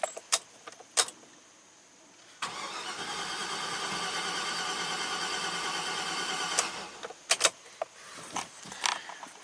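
A 2009 Chevy 3500HD diesel truck with 421k miles and no compression cranks for about four seconds without firing, a fast, even churning whir, framed by jangling keys and clicks before and after.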